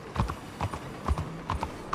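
Horse hooves clip-clop in Red Dead Redemption 2, a steady trotting rhythm of paired hoofbeats close by, with no talk over them.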